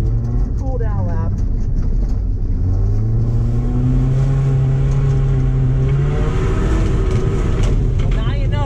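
A 2007 Subaru Impreza on an ice race track at Minden takes a cool down lap. Its engine note climbs and falls through the gears, continuous and fairly loud, while people talk over it.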